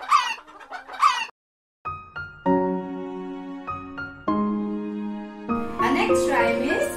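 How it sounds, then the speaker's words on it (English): Hen clucking in a children's rhyme: speech at the start, then a silent gap, then sustained tonal clucks and crowing-like calls, then a voice returns at the end. "9, 10, a big fat hen."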